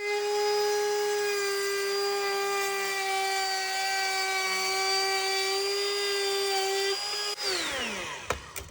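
A power tool smooths wooden edges for a van sauna build with a loud, steady, high whine held close for several seconds, then it winds down with a falling pitch and a few clunks.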